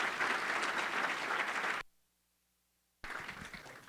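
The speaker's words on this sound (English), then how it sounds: "round of applause for our panel." An audience at a university athletics scholarship celebration claps for a panel, with dense, loud applause that cuts off abruptly into about a second of silence, then resumes at full strength.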